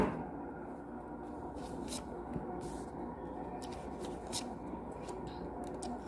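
A deck of tarot cards shuffled by hand gives a soft, steady papery rustle with a few crisper flicks, quiet and close, with no voices.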